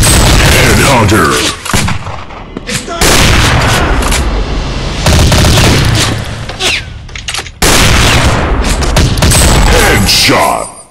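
Gunfire in the shooting video game Gun War, loud sustained bursts of rapid shots and booms broken by short pauses, with announcer-style voice callouts.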